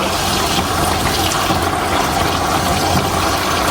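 An aquarium filter pump pushes water in a turtle tub setup with a loud, continuous rushing and gurgling flow that holds steady throughout, with no voices.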